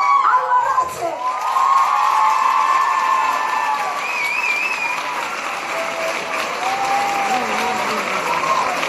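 A concert crowd applauds and cheers for a singer at a live charity show, thick clapping with whoops and shouts rising above it, then slowly easing off.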